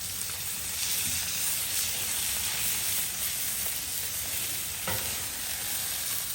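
Pasta sizzling in oil on a Blackstone griddle, a loud, dense, continuous hiss and crackle heard up close, with a faint scrape or two and no voices.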